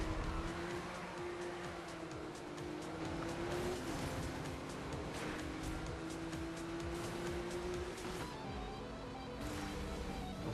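Race car engines roaring in the video game Need for Speed Rivals, a steady loud engine drone holding one high pitch, with faint tire noise and a slight change in engine tone near the end, with no voices.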